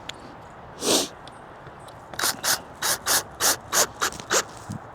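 Screws are driven into a wooden piece with a ratcheting tool, producing a row of short, evenly spaced clicking bursts close by after one earlier burst. No one talks.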